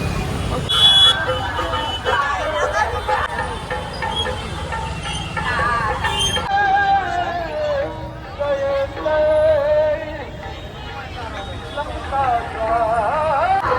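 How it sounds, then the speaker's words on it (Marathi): Busy road near a Sai Baba temple fair in Thane, dense traffic with horns tooting and engines running close by, mixed with crowd babble and someone talking over it throughout. "इकडे खूप सारी भीड आणि ट्रॅफिक आहे"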